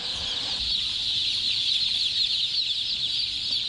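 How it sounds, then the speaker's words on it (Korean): Large poultry house crowded with thousands of young chicks, giving a dense, continuous high-pitched chorus of peeping over faint low background noise. "병아리들은 여기서 한 달 동안 각각 키워질 예정이다."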